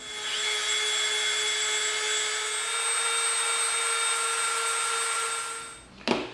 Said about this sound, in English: Let's clean up this little bit of fudge right here.